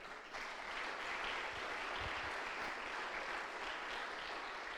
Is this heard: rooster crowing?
no